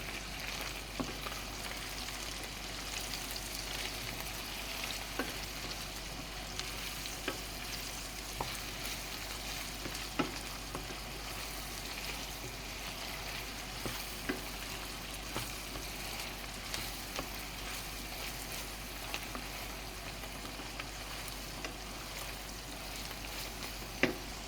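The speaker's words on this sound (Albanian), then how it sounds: "Hedhim qepën. Si fillim hedhim qepën. E përzijmë pak me qepën." Onion fries with chicken meat in a pan, a steady close sizzle with occasional stirring clicks and scrapes throughout, no talk.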